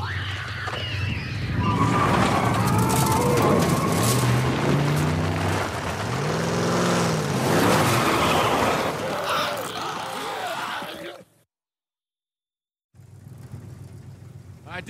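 A truck engine idles and revs with a loud, rumbling drone in The Last of Us Part I, over game sounds, then cuts to brief silence before resuming.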